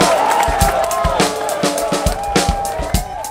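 Cheering crowd at a rock club, a steady wash of voices with rhythmic thumping beats throughout, loud and continuous.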